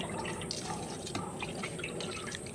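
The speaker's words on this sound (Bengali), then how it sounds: "এখন মা জল দিচ্ছে সব গাছে, সব গাছে এখন জল দিচ্ছে।" Water splashes and drips steadily onto potted plants in a sunny rooftop garden, a continuous close pattering and trickling with no talking.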